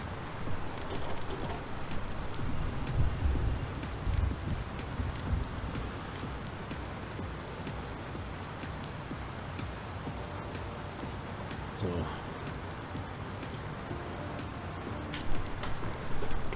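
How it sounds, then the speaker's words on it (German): Steady rain patters continuously in the farming video game Landwirtschafts-Simulator 19, a dense even hiss of drops with a few brief louder knocks and no talk. "so viel Regen lange nicht gehabt hier"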